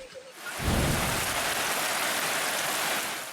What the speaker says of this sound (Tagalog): Nakaranas din ng malakas na pag-ulan kaninang umaga sa Midsayap, Cotabato.